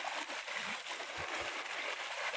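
Floodwater from the overflowing Lagartero river, in La Ventosa, rushing through streets, a steady broadband splashing roar with a few low sloshing surges, loud and continuous throughout.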